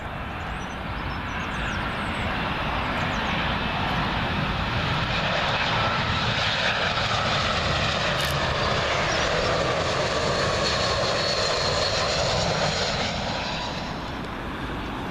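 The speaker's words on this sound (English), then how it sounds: "Next up, British Airways A319. I think this one's in from Belfast." A British Airways A319 arrives at Heathrow on runway 27L, a loud broad jet roar swelling and sustaining as it passes nearby, then easing slightly.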